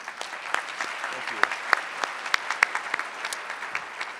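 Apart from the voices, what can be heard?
applause for award finalists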